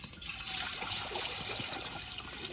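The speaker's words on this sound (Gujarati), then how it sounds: "તપેલું મેકીને અંદર પાણી વેરી દઈએ" Water poured into a cooking pot set on a lit stove for making dal bati, a steady close trickle and splash lasting a few seconds with no voices.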